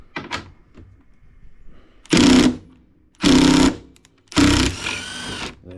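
A power driver with a T40 Torx bit backs bolts out on a Polaris RZR Pro XP. Three separate whirring bursts of about half a second each sound up close, with soft clicks and handling noises in the quiet gaps between them.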